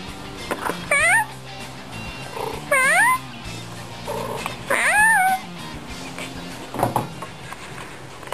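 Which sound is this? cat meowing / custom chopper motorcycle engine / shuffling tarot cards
cat meowing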